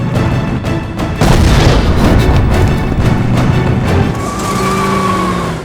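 A building explodes in an action film, a loud deep boom bursting in after a brief tense lead-in, then a sustained roaring rumble with debris and rising tonal effects as it fades.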